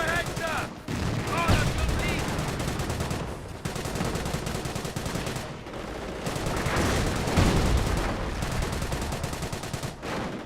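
Dense video-game battle in Company of Heroes, with scattered gunshots, bursts of machine-gun fire and heavier artillery thuds layered over a continuous loud din of combat for the whole stretch.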